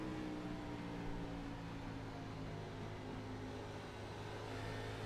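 A race car engine in a sim racing game on the Iowa oval holds a steady droning hum as the throttle is slowly rolled on through the bumps, faint and continuous with no talk.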